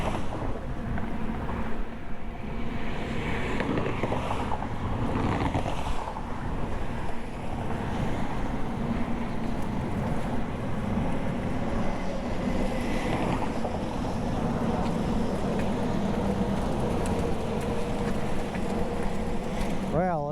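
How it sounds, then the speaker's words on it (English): Steady wind gusts buffet the microphone on an open riverside levee trail, a constant rushing roar with no breaks, close and moderately loud throughout. "windy up here."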